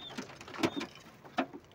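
Pigeons kept for sale in a loft give a few soft coos and wing or body shuffles, quiet and sparse against a hushed indoor background.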